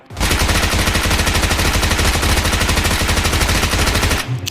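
Rapid automatic gunfire from a PUBG Mobile match hammers away continuously and loudly, a dense rattling burst lasting about four seconds before cutting off.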